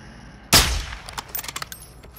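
A single loud, close gunshot cracks in Call of Duty: Modern Warfare II, then a fainter run of quick distant shots rattles on afterward.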